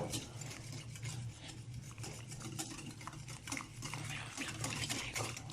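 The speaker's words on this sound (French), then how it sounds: "Et on mélange bien pour éviter les grumeaux." Crêpe batter of flour being whisked in a bowl, with a quick, steady scraping and swishing rhythm, soft and close.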